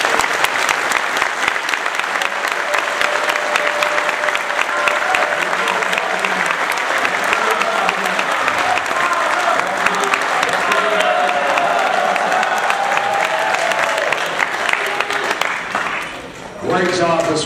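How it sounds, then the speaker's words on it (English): A crowd at a Dallas Cowboys football camp applauds for a long, steady stretch of dense clapping that fades near the end, with a voice talking over it. "Let's give them a round of applause."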